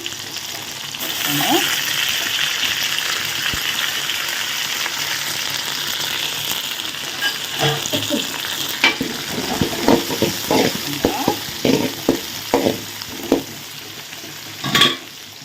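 Small onions and curry leaves fry in hot oil with a steady sizzle, later joined by rhythmic stirring scrapes and clatters against the pan, close up and without talk.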